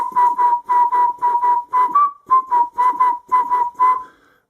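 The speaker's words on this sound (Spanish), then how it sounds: "Vemos que el silbido sale bastante senoidal." A person whistles a clean, almost pure tone in a quick run of about a dozen short, evenly spaced notes. The melody stays near one pitch, with a brief slide in the middle. It sounds loud and close, with no talking.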